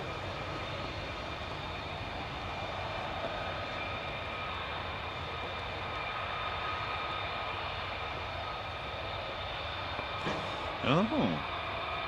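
A fighter jet engine roars steadily at a distance at RAF Lakenheath, a constant rumbling drone that carries on alone throughout, with a brief louder whoosh near the end.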